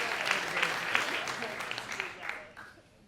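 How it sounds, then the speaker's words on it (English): Audience applause welcoming Rick Chandler, a dense patter of clapping that holds steady and then thins out and fades over about three seconds. "round of applause for Rick Chandler"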